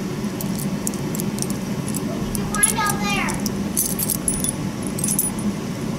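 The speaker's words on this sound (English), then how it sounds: "These are like the super old, like, skeleton keys." A bunch of old skeleton keys jangles and clinks in a hidden room, with a brief cluster of bright metallic rattles in the middle, under steady background noise while children and adults talk nearby.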